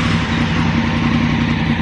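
A Honda Africa Twin DCT motorcycle engine catches and settles into a steady, loud idle, its low throb continuous and close, with no other voices over it.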